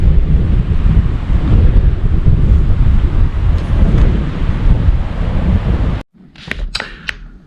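Strong wind at Lac Qui Parle state park, buffeting the microphone with a loud, continuous rumbling gust that cuts off abruptly near the end, leaving quieter, faint ambient sound.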